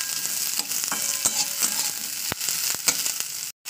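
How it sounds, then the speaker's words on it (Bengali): Beans fry for a minute or two in oil in a pan, a constant close sizzle punctuated by rhythmic scrapes and knocks of stirring, ending with a short silence and no speech. "বিনসটাকে সেম আমি 1 থেকে 2 মিনিট একটু তেলে করে ভাজা করে নেবো"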